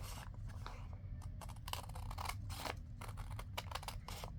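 Scissors trim directional paper off an envelope with a series of soft, close snips and crisp paper cuts, irregularly spaced over a quiet background.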